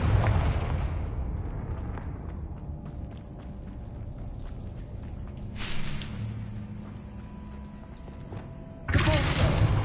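Confringo fire-blast spell cast in the Hogwarts Legacy video game, a loud bursting impact at the start followed by rumbling, crackling debris, another blast midway and a final heavy boom near the end.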